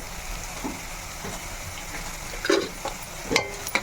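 Cumin and mustard seeds fry in hot oil with a steady close sizzle, interrupted by a few sharp clinks and scrapes of stirring.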